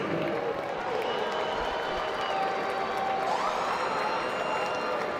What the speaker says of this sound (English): please put a big round of applause together for both of the fighters in this ring